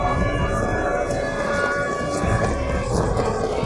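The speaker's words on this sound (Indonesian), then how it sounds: "Sirine serangan udara berbunyi." An air raid siren wails loudly and steadily, filling the air with a sustained droning tone.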